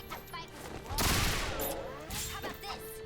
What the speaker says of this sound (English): Guns, guns, guns!